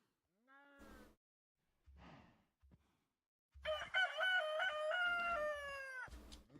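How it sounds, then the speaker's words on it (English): A rooster in the TerraFirmaCraft video game crows one long, loud cock-a-doodle-doo, with a few clucks in the quiet before it. "Hello, Mr. Rooster."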